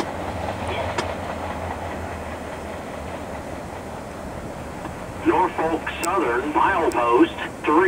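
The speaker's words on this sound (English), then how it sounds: "P61 wasn't the biggest train today" A low rumbling Norfolk Southern P61 train with three SD40s passing with clattering noise in Charlotte, then a person starts talking over it toward the end.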